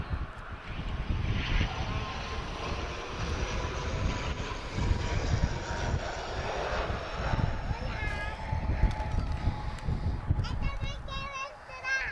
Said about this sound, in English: A330 not wasting any time at all. He's nearly out the runway already.